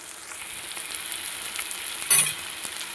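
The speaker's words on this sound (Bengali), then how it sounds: "এবারে আরও কিছুক্ষণ মশলা ভালো করে কষিয়ে নেব" Spice paste of onion, ginger, garlic and tomato with chilli powder and turmeric frying in oil in a pan, a steady close sizzle with a brief louder burst of stirring near the end.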